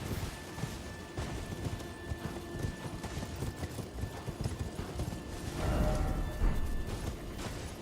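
Cavalry horse hooves pound at a gallop in Elden Ring Convergence, a steady rapid clip-clop over rumbling game ambience, swelling louder toward the end with a brief crashing burst.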